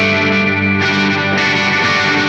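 Electric guitar run through a Donner Arena 2000 multi-effects unit, a sustained distorted chord with chorus shimmer, loud and close, re-struck twice with brighter attacks.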